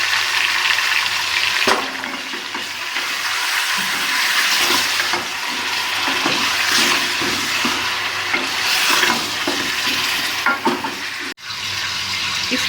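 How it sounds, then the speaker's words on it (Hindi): Beef for nihari fries in a pot, a loud, steady sizzle and crackle with stirring scrapes running throughout, close to the ear. "इसमें हमने गोश्त को डालकर भूनना है"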